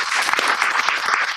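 At a school board meeting, the audience claps for students in a brief, dense burst of applause that stays even throughout.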